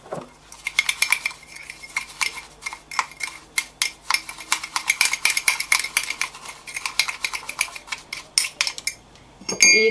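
A spoon stirs coffee, sugar and milk together in a cup for hot coffee, producing rapid, rhythmic clinks and scrapes against the sides, close and crisp, with no talking.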